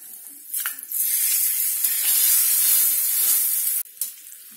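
Hot oil tempering with mustard seeds and curry leaves is poured into garlic chutney, giving a loud, sustained sizzling hiss that lasts several seconds before cutting off, with a brief crackle after.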